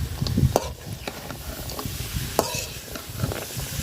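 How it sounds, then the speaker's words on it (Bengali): Taro stolons, jackfruit seeds and potatoes are being stirred in hot spiced oil, giving a steady low sizzle. Sharp scraping clicks from the spoon against the pan come through now and then, with no speech. "তো লতি, কাঁঠালের বীজ আর আলু দিয়ে দিলাম একসাথে।"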